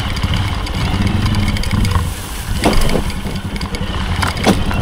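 A vehicle engine runs steadily and loudly throughout, a low rumbling drone with a few brief clicks and knocks over it.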